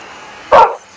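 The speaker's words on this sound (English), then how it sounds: "We have three dogs" A single sharp dog bark from a Minecraft dog, one of three dogs in the game, rings out loud and close over a faint steady background hum.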